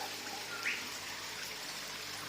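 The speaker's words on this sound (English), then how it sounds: "I'm doing some water changes here" Water trickles and pours softly during a fish tank water change in an aquarium shed, a faint continuous hiss-like stream with no talking.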